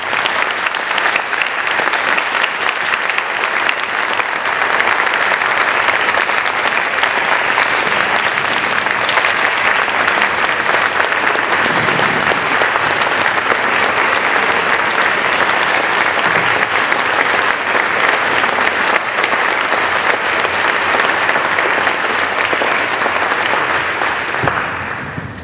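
An audience applauds at a community diversity kick-off event, steady and dense clapping that holds loud and full for about twenty-five seconds before easing slightly at the end.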